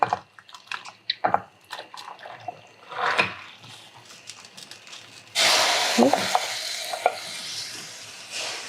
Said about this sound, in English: now we're gonna add our pasta to our boiling water